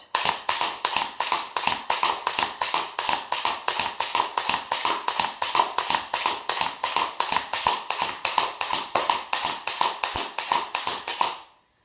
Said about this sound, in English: hear that tap sound from the actual tap part of the tap shoe